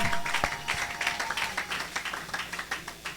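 A church congregation applauds during a worship service, with steady, rhythmic clapping from many hands that is fairly even and moderately distant, and a faint voice underneath.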